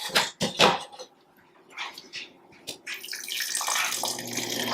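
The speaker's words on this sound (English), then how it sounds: "we're going to add some more distilled water to this and get the next round" Distilled water is poured into a pot in several splashy bursts, then settles into a steadier trickling pour; a short bark-like sound appears briefly among the pours.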